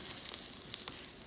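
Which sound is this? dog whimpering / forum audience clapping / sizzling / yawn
sizzling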